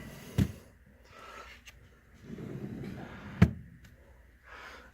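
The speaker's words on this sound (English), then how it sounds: "So the bottom 3 drawers pull straight out." Wooden drawers of a cedar-lined Remington humidor slide straight out, with two sharp knocks and softer scraping slides between them, close and fairly quiet.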